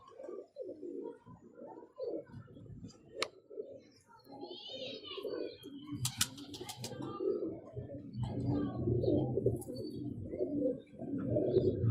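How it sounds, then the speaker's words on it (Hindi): Soft Teddy pigeon coos repeat through the clip, blended with low murmuring and background chatter, growing fuller toward the end. "ये कबूतर है, बोल रहा है।"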